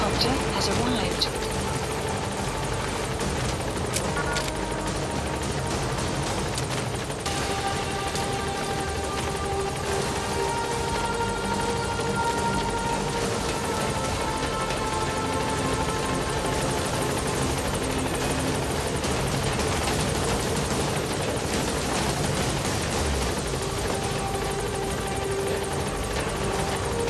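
In Metal Gear Solid V, a support helicopter arrives with a constant, dense rotor and turbine roar that holds at steady volume throughout, with faint musical tones and game effects mixed in.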